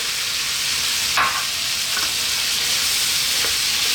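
Chickpeas tumble into a hot chicken curry pan with a brief clatter, followed by a continuous loud frying sizzle held close for several seconds.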